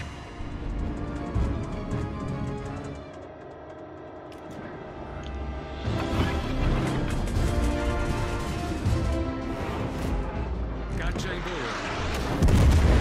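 Warship broadside gunfire in a naval video game booms repeatedly over a continuous roar of battle and engine noise, loud and dense, with a voice speaking over it.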